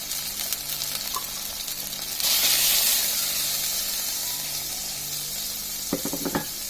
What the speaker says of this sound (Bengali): মশলাটা ভালোভাবে কষিয়ে নেওয়া লাগবে